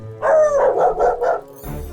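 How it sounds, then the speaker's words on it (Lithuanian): A large dog barks angrily, a close, loud burst of five quick rough barks in a row followed by a softer trailing yelp, with no other sound around it. "už nugaros pasigirdo piktas lojimas"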